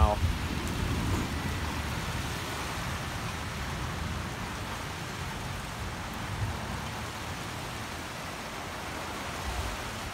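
Steady rain pours down during a Portland, Oregon thunderstorm, a dense continuous hiss with a low rumble of thunder beneath, loud and unbroken throughout.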